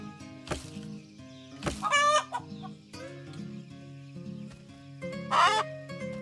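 Chickens cluck in the survival video game Keep Up Survival on a tropical island map. Several sharp, close clucks and squawks sound over a steady game background hum, with no talking.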